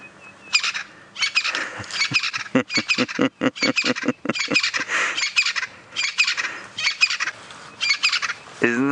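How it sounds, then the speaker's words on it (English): A Crested Francolin gives its territorial call on an African safari drive: a loud, close run of harsh, rapid, rhythmic squawking phrases repeated in bursts, rising to fast rattling stretches. "That is a Crested Francolin that has decided that it's going to give us all a territorial display."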